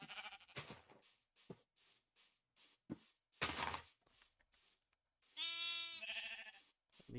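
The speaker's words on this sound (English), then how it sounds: "We now have lots of white sheeps out" Several sheep in Minecraft bleat one after another in short, separated calls, with a longer, clearer bleat near the end, all fairly close and without speech.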